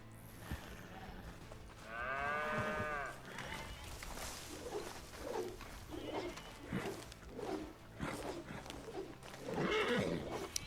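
A horse in the video game Red Dead Redemption 2 lets out one clear, near whinny early on, followed by quieter snorts and ambient movement, with faint voices in the background.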